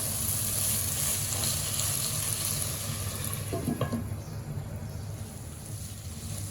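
Bitter gourd keema frying on a medium flame, a steady close sizzle throughout with a brief clink of utensils partway through and no talking.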